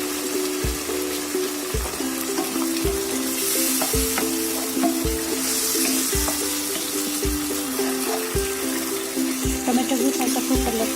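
Tomatoes sizzling in a pan for a chicken keema pasta sauce, a loud steady fry with regular stirring knocks from a utensil against the pan throughout.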